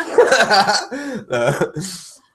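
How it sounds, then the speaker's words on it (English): A single person coughs a few times in quick succession, close and fairly loud, with throaty vocal bursts between. "You guys hear my cough?"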